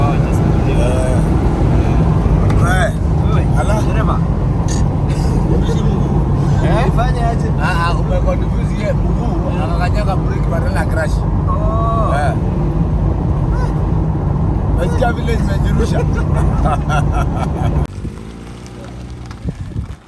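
Riding in a car in Kenya that carries goods to market, with constant rumbling engine and road noise and wind buffeting throughout, and people talking over it most of the time.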